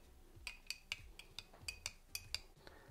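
A spoon clinks against a bowl in quick, uneven taps while salad dressing with sesame seeds is stirred together, close up and with no talking.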